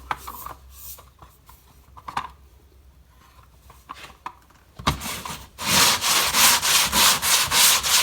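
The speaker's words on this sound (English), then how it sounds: "Got it on a sander." Drywall screen on a hand sander rubbing over the dinged drywall of a garage wall, light scattered scrapes at first, then loud, rhythmic back-and-forth rasping strokes up close.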